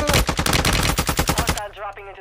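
Rapid automatic gunfire in Warzone, a loud close burst of shots in quick rhythm for about a second and a half, followed by a player talking.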